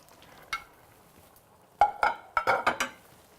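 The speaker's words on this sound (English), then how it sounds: "I am going to go ahead and add my shrimp" Shrimp go into a pot of spinach and vegetable stew. After a quiet start come a single knock and then a quick cluster of clinks and stirring scrapes from a utensil against the pot, with a faint simmer beneath.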